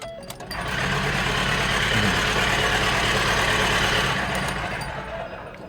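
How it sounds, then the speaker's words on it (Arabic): Car engine turned over by its starter motor during a cylinder compression test, with the throttle held fully open: a steady, loud mechanical churning whir that runs continuously for about four seconds before winding down. "كل اللي بعمله هدوس بنزين الاخر، واول ما اجي ادور الموتور هيدور. الموتور الكهرباء هيدور الموتور بتاعي العادي."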